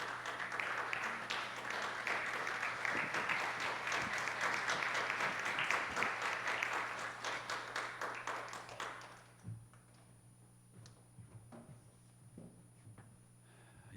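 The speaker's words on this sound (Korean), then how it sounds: "박수 한번 해주세요." A church congregation applauds loudly in a dense, sustained wash of clapping that lasts several seconds, then breaks off into a quiet room with a few scattered claps.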